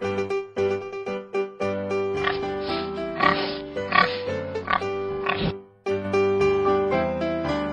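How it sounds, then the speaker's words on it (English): A pig grunts and oinks in a run of snorting bursts over light background music, loud and close, with a brief gap near the end. "Pig."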